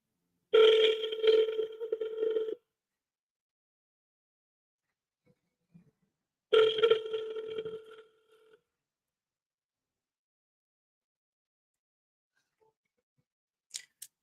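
A phone call rings through a speaker, two separated ringback bursts about four seconds apart, each roughly two seconds long, clear and close, with silence between them and no talking.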